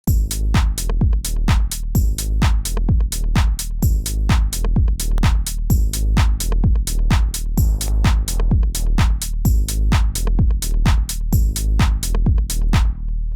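A deep house bass from Serum pumps alongside a drum loop, loud and steady, tight repeating hits locking with sustained low notes in a continuous danceable pattern.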